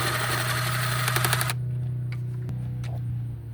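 A 10mm bolt being backed out with a ratchet on a 2017 Jeep Grand Cherokee 3.6L, a rapid buzzing clicking run for about a second and a half, then quieter metallic taps against a steady hum.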